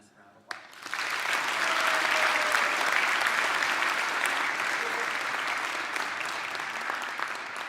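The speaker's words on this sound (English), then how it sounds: "Please give them a massive round of applause." A large audience breaks into sustained applause at a student ceremony, a dense wash of clapping that swells in after a brief pause and holds steady and loud to the end.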